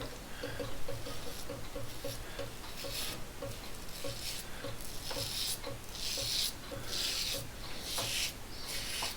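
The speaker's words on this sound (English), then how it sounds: "You can hear the blade nicely and feel it." A Gillette Heritage double edge razor drags over lathered stubble with Gillette Pure shaving cream, making soft, close raspy scraping strokes in an uneven rhythm. The strokes are quiet and continuous, with no talking.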